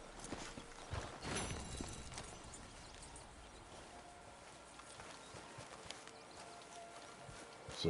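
In Red Dead Redemption 2, a horse's hooves clip-clop at a walking pace, faint and fairly distant beneath a low wash of ambient game sound.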